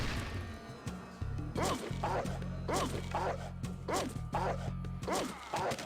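A dog barks repeatedly in the Fallout video game, a series of sharp, regular barks mixed with whacks and combat thuds over a steady low hum.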